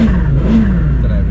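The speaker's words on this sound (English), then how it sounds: "You hear a lot of turbo noises." A loud McLaren GT engine drones and revs steadily up close while accelerating, with a low rumbling roar and faint turbo whine and whistle, and a voice speaking underneath.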